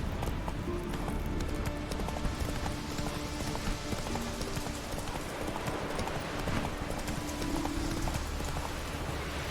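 Horse hooves clip-clop steadily in a video game, a continuous rhythmic trotting patter with faint ambient game sound behind it, no talking over it.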